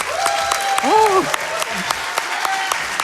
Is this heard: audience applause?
yes